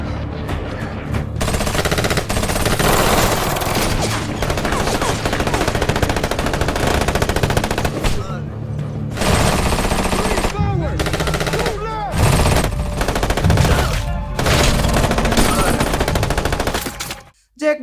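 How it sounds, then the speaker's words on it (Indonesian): A film gunfight between soldiers and a lone man, with dense bursts of machine gun fire and repeated gunshots that continue loud and nearly unbroken, a few short gaps between volleys. "Jack dan para tentara itu pun saling adu tembak"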